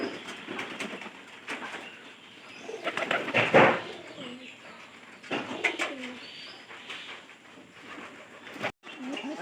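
Domestic pigeons in a loft cooing in repeated throaty bursts, fairly close, with brief wing flutters and faint background noise between calls.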